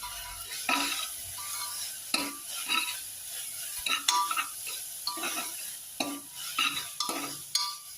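Potatoes frying in a little oil in a pan for a simple chicken curry are stirred with a spoon, giving repeated scraping strokes over a soft steady sizzle, close and fairly quiet with no talking.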